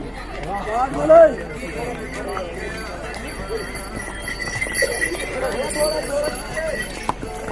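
A horse's hooves clip-clop along the rocky Kedarnath pilgrimage trail in a steady walking rhythm, mixed with outdoor bustle and ongoing conversation nearby.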